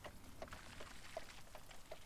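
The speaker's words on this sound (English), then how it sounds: "The rain must have begun right as you were on your way back." Soft, steady rain falls continuously at a low level, with scattered faint drips tapping through the hiss and no voices.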